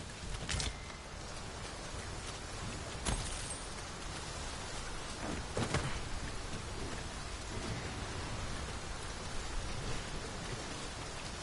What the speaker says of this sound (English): Shall we prop up our tent and get out of the rain for a spell?